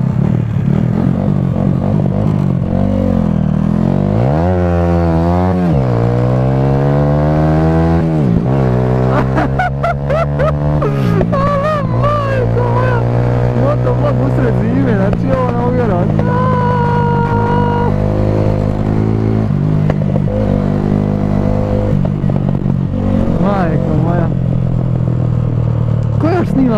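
A motorcycle engine on a snowy road in January, revving and rising in pitch repeatedly as the bike climbs. It is loud and close, with a person talking over it throughout.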